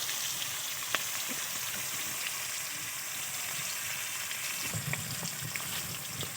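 Pangas and tengra fish frying uncovered in hot oil, a steady close sizzle with scattered pops and crackles throughout, no talking.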